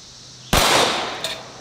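A single sharp shot from a Canik TP9 SFX 9mm pistol striking a lawn mower blade, loud and close, with a short decaying ring and a faint second metallic tick after it.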